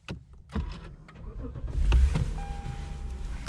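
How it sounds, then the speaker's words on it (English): A 2015 Lexus RC 350 F Sport starts up in the cabin: a short starter crank, then a steady mid-level engine idle settles in, with a thin electronic tone running underneath. "And start this car, put your foot on the brake."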